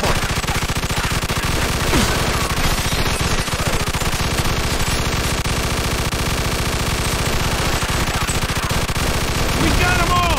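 Dense, sustained gunfire in Mafia II Definitive Edition, rapid machine-gun bursts and overlapping shots forming a loud, unbroken barrage with voices shouting underneath.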